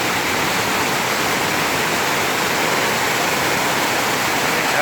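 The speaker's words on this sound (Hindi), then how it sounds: "जो आप देख रहे हैं झरने की गड़गड़ाहट की आवाज़" A roaring waterfall in Nainital during rain, a loud, dense, unbroken wash of rushing water filling the whole clip with steady broadband roar.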